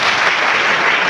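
Parents at a school parent-teacher meeting clap together in a brief, dense burst of applause, loud and continuous throughout.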